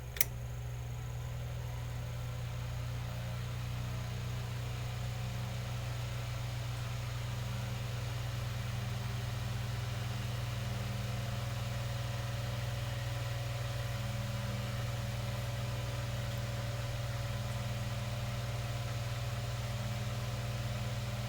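A Mainstays 9-inch high-velocity fan runs on its high setting, giving a steady, even whoosh with a low motor hum that holds unchanged for the whole stretch, close by, with no talking.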